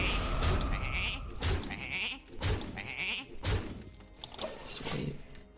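Sheep bleats from the Hearthstone game, several short cries at a steady pace, moderately close, over a busy background of game music and effects, with occasional thumps.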